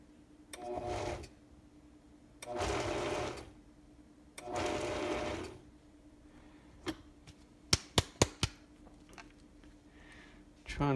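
A blending bowl blends apples in three loud whirring bursts of about a second each, with pauses between them, followed by a few sharp clicks and taps.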